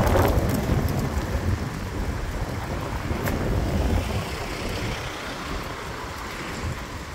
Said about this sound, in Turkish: Çok toz savuruyor fırtına.